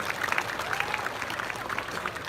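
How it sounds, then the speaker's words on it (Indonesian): Audience applause at the opening of the 2022 Bali Arts Festival at Ardha Candra Art Center, a steady patter of many hands clapping from a crowd, moderately loud and continuous throughout. "Tepuk tangan hadirin sekalian."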